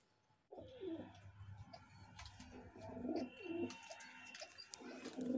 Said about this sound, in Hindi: ये एक और ब्रीडिंग पेयर है वाइट फेंटल